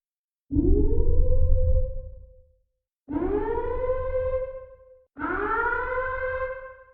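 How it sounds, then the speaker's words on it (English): Three rising-and-falling siren wails, each a loud, harmonic-rich tone that swells and fades, separated by brief silences, with no talking. "Let's start out with the alarms."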